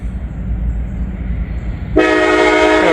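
Heavy freight train passing in fog: a low rumbling roll of rail cars, then a loud, sustained multi-tone horn blast cuts in and holds, close and dominant.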